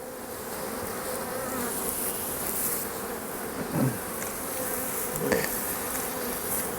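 A steady, dense buzz of many honeybees swarming close by around an open hive, with a couple of brief louder passes near the listener.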